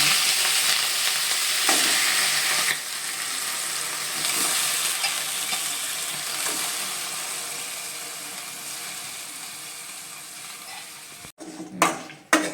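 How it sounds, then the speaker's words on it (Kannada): Chicken chops frying in a little oil in a pan on the stove without any added water, a loud continuous sizzle with stirring scrapes, then sharp utensil clatters near the end. "ಚಿಕನ್ನ ಫಸ್ಟ್ ಫ್ರೈ ಮಾಡ್ಕೊಳ್ಳಿ ನೀರಿಲ್ಲದೆ"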